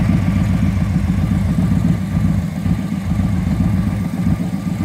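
A custom Victory Hammer motorcycle fitted with a Maximus tuner idles close by, a loud, steady low rumble with an even pulsing beat throughout and no voices.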